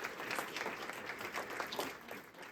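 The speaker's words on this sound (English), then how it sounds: "So we can give her a round of applause." Faint, distant applause rises from a crowded room at a community meeting, a dense, even patter of many hands clapping with no voices on top.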